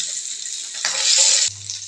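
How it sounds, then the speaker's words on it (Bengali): Hilsa fish pieces frying in hot oil give a steady, close sizzle that swells briefly in the middle before dropping to a quieter crackle, with no talking. "এখানে ইলিশ মাছ ভেজে নিচ্ছি"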